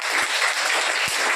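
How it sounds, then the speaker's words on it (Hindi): Children clapping at a birthday celebration in a community kitchen: a short burst of brisk, continuous applause from a group, close and fairly loud, with no one speaking over it. "तो सभी लोग बच्चे ताली बजा के"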